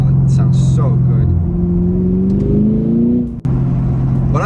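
Chevrolet Camaro SS 1LE fitted with a Stainless Works axle-back exhaust, rolling and revving with a deep, loud rumble whose pitch climbs steadily before a sharp shift near the end.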